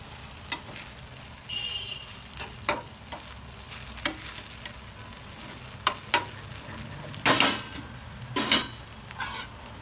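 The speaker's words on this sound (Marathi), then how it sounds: "मीठ टाकून आहे ना तर पुन्हा अजून मिक्स करून घ्यायचं" Sabudana khichdi with potato is stirred in a pan after salt goes in, a low sizzle beneath intermittent scrapes and clacks of the spoon against the pan, louder in a few bursts toward the end. No one speaks.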